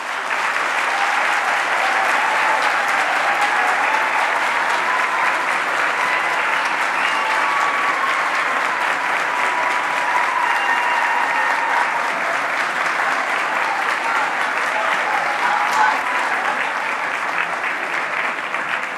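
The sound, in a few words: audience applause at graduation ceremony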